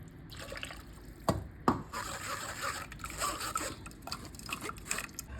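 Ground tomato paste is strained with water for tomato soup, soft liquid splashing and dribbling with a couple of sharper drips and taps, faint and close.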